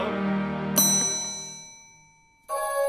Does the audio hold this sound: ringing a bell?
yes